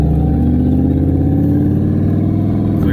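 A truck fitted with a built 4L80E transmission pulls away in first gear, its engine a loud, close, steady drone with rising harmonics as it accelerates, no voices over it.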